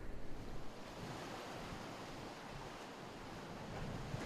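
Winter ocean waves break on the shore in a steady, rushing wash of surf with wind buffeting the microphone, faint and continuous with a few stronger swells.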